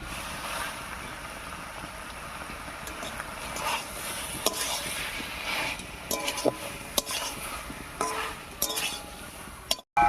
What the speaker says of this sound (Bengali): চিনি দিয়ে নাড়িয়ে নিয়েছি